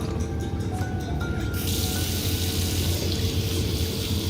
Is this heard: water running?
yes